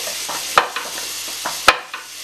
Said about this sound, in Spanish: Ya tenemos el aceite caliente. Mientras se está haciendo la cebolla y el ajo